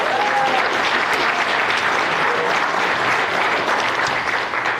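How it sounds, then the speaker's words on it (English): An audience at a school athletics senior awards banquet applauds the graduating seniors, a loud, dense round of clapping that holds steady throughout. "Let's do another round of applause for the seniors."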